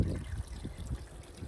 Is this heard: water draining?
yes